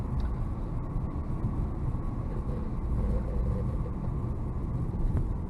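A 1992 Toyota Soarer twin-turbo 1JZ coupe drives along, its steady low engine and road rumble droning continuously at moderate level with no talking.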